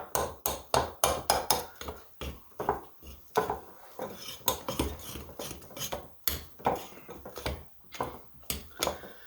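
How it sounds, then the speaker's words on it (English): Cake mix and flour being stirred in a glass bowl, with a quick run of sharp clinking and tapping knocks as the utensil hits the glass, close and fairly loud, with no talking. "What I'm doing is I'm just trying to get that flour in here, the cake mix, blended in here good."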